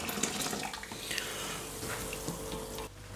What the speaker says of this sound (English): 3 litres of boiling water